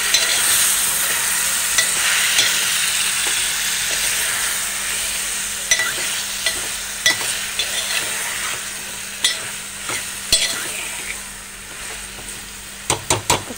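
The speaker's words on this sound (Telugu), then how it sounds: "బాగా కలుపుకోవాలి." Okra and tomato curry frying in a pan while being stirred, a steady close sizzle with scraping spoon strokes and a few sharp clinks against the pan near the end, no talking.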